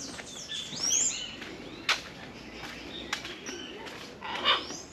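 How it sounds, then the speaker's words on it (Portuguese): Bird calls in a Roraima forest grove where a toucan is present: several bright chirps and squawks at moderate distance, with one sharp call near the middle and a rising chattering burst toward the end, over steady background hiss. "Olha o tucano, que ave linda."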